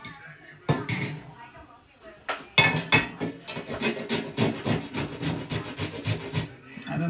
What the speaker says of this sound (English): grate the okra.